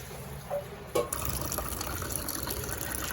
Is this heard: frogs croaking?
no